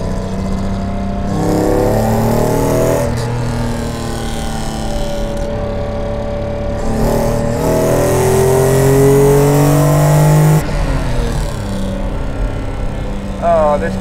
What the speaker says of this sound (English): I'm just going to drive it through these bends a little bit quickly.